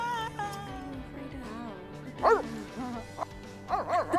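A small dog in The Sims 3 gives a few yips and a bark near the end, over a steady game music track.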